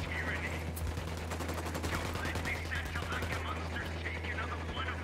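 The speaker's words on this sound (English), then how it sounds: "Opening fire on these fuckers." Gunfire in the video game Tom Clancy's Wildlands: rapid automatic bursts and scattered shots over a continuous low rumble, fairly loud, with game dialogue heard over the action.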